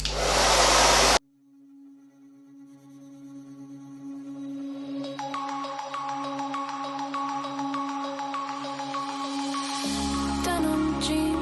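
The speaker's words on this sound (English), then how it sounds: "then I just put my blow dryer and cool air and dry it down." A loud blow dryer on its cool air setting roars for about a second, then cuts off abruptly as music begins and continues to the end.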